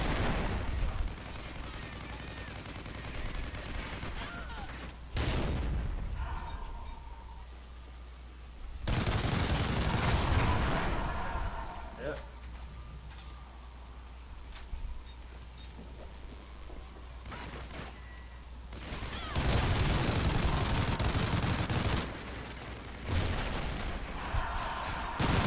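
Gunfire in the video game Call of Duty Ghosts during a team deathmatch: loud bursts of rapid automatic shots and blasts come in several clusters across the stretch, separated by quieter gaps with steady background hum.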